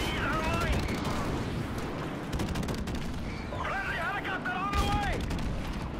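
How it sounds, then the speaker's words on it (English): Suppressed AK rifle fire in Call of Duty: Modern Warfare Remastered comes as short muffled bursts of rapid shots amid constant game noise, with voices talking over the action. "Now, I like this AK with a suppressor."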